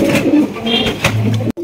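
Pigeons in a loft where birds sit on eggs coo steadily, soft throaty rolling calls overlapping close by, with a continuous murmur of several birds and a brief cut near the end.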